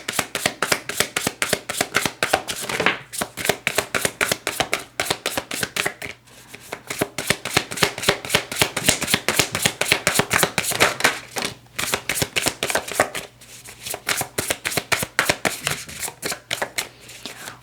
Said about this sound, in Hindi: तो हम यहाँ पर कार्ड्स को शफल करेंगे